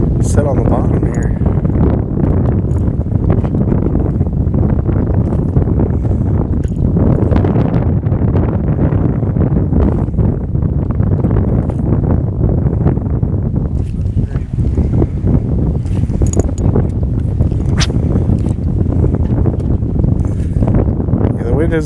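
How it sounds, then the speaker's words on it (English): Strong wind roars steadily over a fishing boat on the water, a constant loud buffeting rush with microphone wind noise throughout, and a voice speaks intermittently beneath it. "the wind is blowing strong enough to push us against the current"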